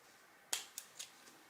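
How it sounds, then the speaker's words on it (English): Cords for a dollar-store Christmas craft snipped with scissors, a few quick faint close snips spaced apart in quiet surroundings. "And then I'm gonna cut these cords."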